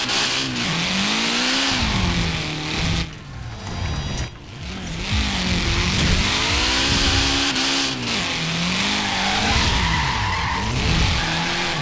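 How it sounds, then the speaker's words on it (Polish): Car drifting in the video game Forza Horizon 4: a loud, sustained engine whine rising and falling through repeated revs, with continuous tyre skid and squeal running almost without break for about twelve seconds. "ja sobie potrenuję drifting"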